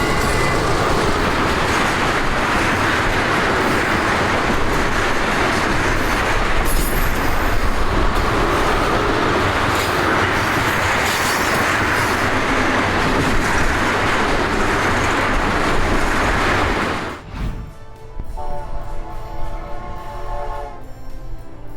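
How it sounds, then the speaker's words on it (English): A BNSF EMD SD75I locomotive leads a 2,800-foot ethanol freight train out of Burlington, Illinois in February snow, a loud continuous rumble and rolling clatter of cars that abruptly drops away near the end, leaving quieter rhythmic wheel clicks. "An EMD SD75I leads an ethanol train out of Burlington, Illinois right as the February snow starts"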